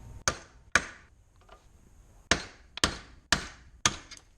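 Hammer blows knocking rivets out of a GMC motorhome front suspension control arm, six sharp metallic strikes in two uneven bursts, close and loud, with brief ringing after each.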